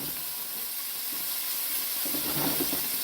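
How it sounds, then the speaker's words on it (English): A steady, hissing sizzle of human-grade meat for dogs frying in a pan, close and constant, with a slight low rumble toward the end. "Frying up for the dogs."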